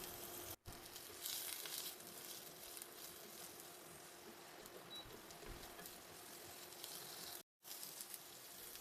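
Chopped vegetables and curry leaves fry in coconut oil with mustard seeds and urad dal, a faint, even hissing sizzle that runs steadily with two brief cut-outs and no talk.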